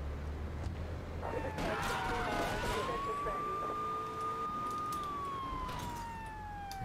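A police car siren wails in GTA III, a single long rising and falling tone sweeping past over engine and street noise, with someone talking briefly underneath.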